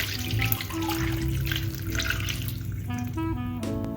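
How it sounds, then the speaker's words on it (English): Vegetable stock pours into a pot of rice noodles, vegetables and bell pepper, making a close, continuous liquid splashing and gurgling with a few dripping tones near the end. "And lastly, we add vegetable stock."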